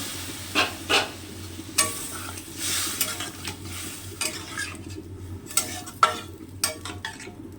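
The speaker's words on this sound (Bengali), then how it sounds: "এবার আমি একটু জল দিয়ে দেবো, এটা মাখা মাখা করবো, বেশি ঝোল করব না" A spoon stirs fried masala in a pan after a little water goes in for a quick egg curry, scraping and clinking in irregular strokes over a soft sizzle.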